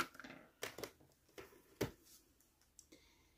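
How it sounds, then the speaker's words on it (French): Scissors snip a small piece of organza fabric at a craft table, a few faint, irregular clicks and soft cuts spread across a quiet background. "donc je me coupe un petit bout d'organza"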